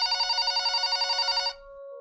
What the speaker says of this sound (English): I heard the phone next door ring.